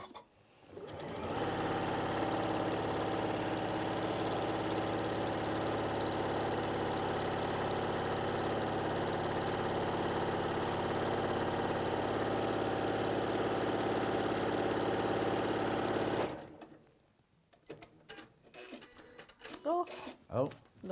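A sewing machine stitches a Christmas Highland cow cushion in one continuous, steady whirring run of about fifteen seconds. It stops abruptly, and brief voices follow.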